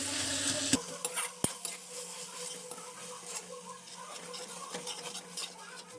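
A spoon stirs garlic paste into a fish mixture in a pan, giving soft scraping strokes and a few sharp metal clinks against a low sizzle, close up and steady.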